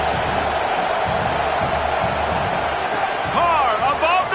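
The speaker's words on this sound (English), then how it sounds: "These fans are going absolutely nuts." Loud stadium crowd at a college football game between Notre Dame and Oklahoma roars continuously, with whistles and shouts rising near the end and a commentator's voice faintly under the noise.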